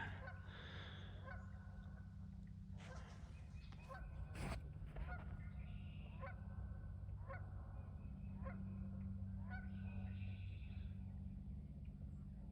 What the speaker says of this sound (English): Geese on the creek